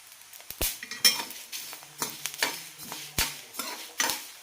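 Coriander seeds popping and crackling in a hot pan while being stirred for roasting, with quiet scattered snaps and scraping strokes close by.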